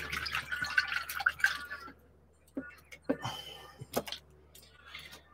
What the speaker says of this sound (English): Give it a bit of a quench.